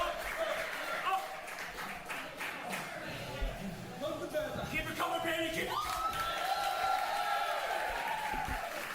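Wrestling crowd in Hicksville cheering, clapping and whooping steadily throughout, with a commentator talking over the noise.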